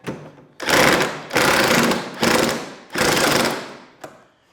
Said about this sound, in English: you always want to hand tighten those or at least get it started that way, and then just use your impact